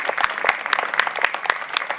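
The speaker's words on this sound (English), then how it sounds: "Why don't we give a big round of applause for Councilman David Greenfield" Audience applause at an outdoor Brooklyn street renaming ceremony, a handful of distinct nearby claps landing in a loose, fairly regular rhythm, loud and close.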